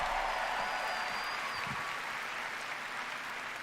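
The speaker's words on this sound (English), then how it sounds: "Another round of applause, please, from Marty Hugo and all of our presenters" An audience claps at the Bethesda E3 2019 briefing, a steady wash of applause with a faint electronic tone above it, easing slightly as it goes.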